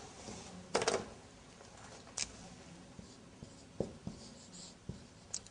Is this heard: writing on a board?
yes